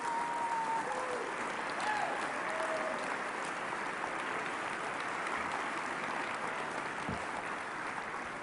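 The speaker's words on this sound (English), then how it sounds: "warm round of applause" A warm round of applause from guests at a political party gathering fills the room, steady and dense throughout with a few faint whistles rising above the clapping.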